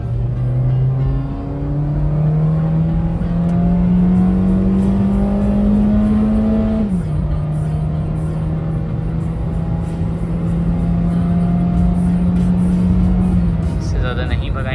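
A tuned Honda City 1.5 accelerates hard, its engine note climbing steadily, dropping briefly at a gear change, then rising again in a loud, sustained drone heard from inside the car.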